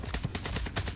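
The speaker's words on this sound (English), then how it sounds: "Oh, he's sniping." Rapid shots ring out in the Warzone video game, with a steady run of sharp reports at a moderate distance and no talk.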